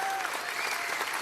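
Applause from an audience at a 2017 Veterans Day observance, a steady dense crowd clapping throughout at moderate loudness with no break.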